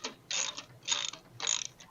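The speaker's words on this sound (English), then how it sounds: "So these go on with 17mm socket." A ratchet wrench with a 17mm socket tightens bolts on the stand of a Skilsaw SPT99-11 jobsite saw, giving three quick bursts of clicking close up with short pauses between them.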